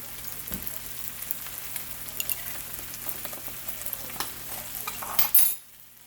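Food pieces cook in butter in a pan, giving a soft, steady sizzle with light stirring and occasional scrapes, fairly quiet and close, then cutting off abruptly at the end.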